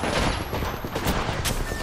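Continuous rapid gunfire in a shooter video game, a dense, loud barrage of overlapping shots with sharp bright cracks throughout, sounding close and chaotic.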